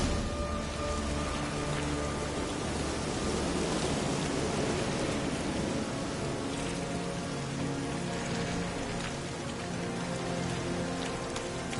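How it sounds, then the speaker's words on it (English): Steady rain falls in The Witcher 3 video game, a dense, even hiss of drops on surfaces that runs unbroken and moderately loud throughout, with no voices. "Looks like rain."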